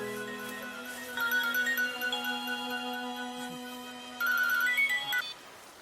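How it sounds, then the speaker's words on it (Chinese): A phone ringtone plays as a bright electronic melody in two bursts separated by a short pause, clear and moderately loud against a quiet background. "不好意思，我接个电话。"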